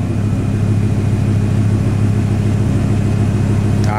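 A car idling in a garage after repair work, a loud, steady low engine hum with an even rhythmic throb, close up and alone.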